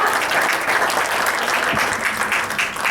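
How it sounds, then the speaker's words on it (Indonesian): Steady audience applause, a dense patter of many hands clapping at once, sustained for a few seconds without a break. "bisa kita berikan tepuk tangan yang luar biasa"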